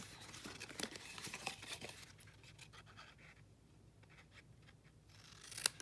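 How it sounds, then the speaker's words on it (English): Scissors cut tabs off card stock, a run of close, crisp snips and rustling in the first half, then quieter handling and a sharp snip at the end. "So I'm going to just cut those off. Cut all 4 of those off."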